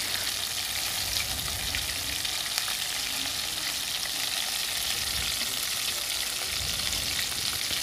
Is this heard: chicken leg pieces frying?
yes